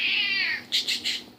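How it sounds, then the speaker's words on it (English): A close, high-pitched drawn-out meow from a cat, followed by three quick short chirps, with no talking. "That's my cat."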